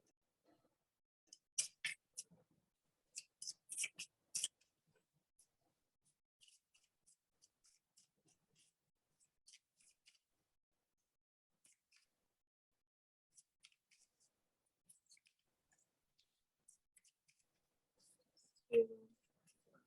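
Tarot cards being shuffled up close, with a few quick quiet riffling bursts early on, then near silence with faint handling clicks and a soft thump at the end.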